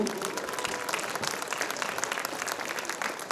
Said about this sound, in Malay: marilah kita beri satu tepukan kuat dan gemuruh kepada penganjur